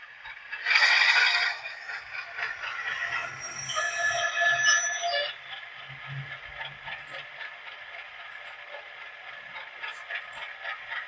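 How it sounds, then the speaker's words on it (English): Flange squeal sound effect from a Loksound decoder in a Rapido RS18-u model locomotive: a shrill, sustained metallic screech that wavers in pitch. It is loudest at first and settles into a quieter, lingering squeal, with faint low thumps underneath. "So F3 is flange squeal."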